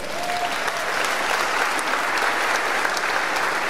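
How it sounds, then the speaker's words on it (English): An audience claps in sustained, dense applause, many hands at once, a bright even patter from start to finish with no talking over it. "Can we give them a round of applause?"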